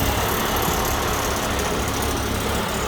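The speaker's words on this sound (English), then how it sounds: "Back here, we've got the engine." A concrete truck's engine idles at the rear, a steady low rumble with a broadband roar, holding even and continuous for the whole stretch with no speech.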